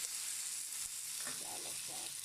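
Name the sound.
marinated chicken frying in a hot oiled pan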